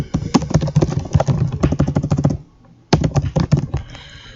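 Rapid typing on a computer keyboard, with bursts of clicking key presses close by, a brief pause, then another flurry of taps.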